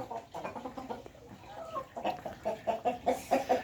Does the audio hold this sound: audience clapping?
no